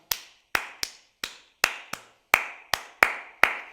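Hand clapping in Afro-Brazilian music, about ten sharp, close, dry claps in a loose syncopated rhythm, each one separate and alone with silence between them.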